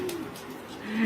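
Young racing pigeons in a cluttered loft where they lay eggs everywhere coo softly nearby, one low call at the start and another swelling toward the end, with no talk.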